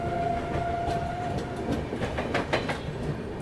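A train rumbles steadily nearby with faint wheel clicks and a brief horn-like tone early on, the rolling sound gradually easing off as the Swatantrata Senani Express suddenly slows.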